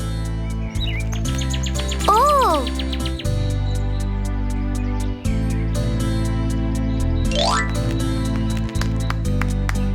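A few bright bird chirps and a quick rising tweet sound over steady, loud musical tones.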